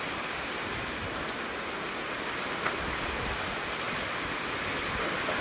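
Floodwater flows into a house as a faint, even rushing hiss, steady and unbroken with no voices and only a tiny knock partway through.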